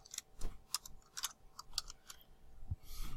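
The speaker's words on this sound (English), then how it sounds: "So I'm just going to type Inlet Grove." Close, quiet keystrokes on a computer keyboard, tapped in a short irregular burst of separate clicks with small gaps between them.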